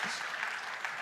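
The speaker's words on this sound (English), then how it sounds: "Let's give them a round of applause as they come up." Audience clapping at the Health and Care Research Wales Awards 2025 ceremony, a steady, dense wash of applause filling the hall as winners head up to the stage.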